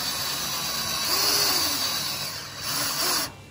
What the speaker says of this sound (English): we're gonna countersink this hole here. We're just gonna go as deep as the Forstner bit